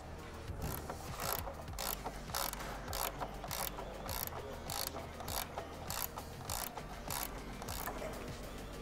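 A hand ratchet snugging bolts on an IndyCar aeroscreen mount: quiet, close, rapid repeated clicking strokes in a steady rhythm, roughly two per second, with no talking.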